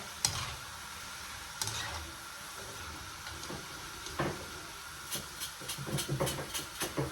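Baursak dough frying in oil in a deep kazan, a soft steady sizzle and bubbling hiss with occasional stirring clinks and scrapes, fairly quiet and close.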